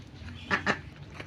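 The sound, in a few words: ducks eating feed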